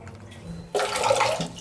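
Water gushes suddenly from an opened water tank tap after a quiet moment, a loud continuous rushing splash that carries on steadily to the end.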